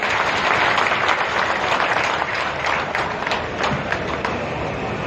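A crowd claps steadily for the Delhi chief minister at a public event launching DTC buses, a dense, sustained round of applause heard nearby with no talk over it.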